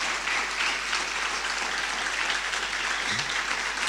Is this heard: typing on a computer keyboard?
no